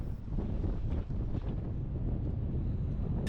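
Strong coastal wind at Sankt Peter-Ording on the North Sea roars and buffets steadily throughout, with a constant rough rumble, close and loud, and no voices.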